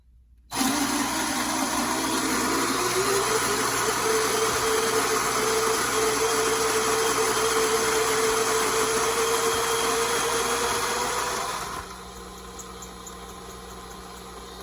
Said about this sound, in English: Yeah, I've been loving this grinder. This is a really cool grinder.